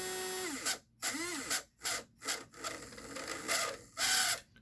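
A rebuilt Aurora Magnatraction slot car motor runs on test without its gear, a small electric whine that rises and falls in pitch through several short revving bursts, fairly quiet.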